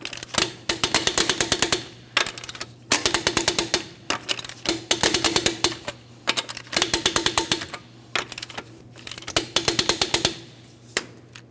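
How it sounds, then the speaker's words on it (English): A torque wrench tightens the lug nuts on a 2007-2014 Ford Edge wheel, producing bursts of rapid mechanical ratcheting clicks that come in about six repeated runs, close and fairly loud, with brief pauses between them. "Let's go ahead and torque each one of these lug nuts to that 100 foot-pounds in a crisscross manner."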